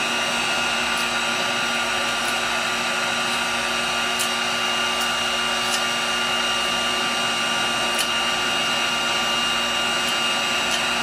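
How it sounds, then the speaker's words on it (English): A heat gun drones steadily and loudly while softening heat shrink tubing to lift off leftover glue, a constant blowing whine with faint clicks and scrapes. "I can get the excess glue off also just by heating it some more"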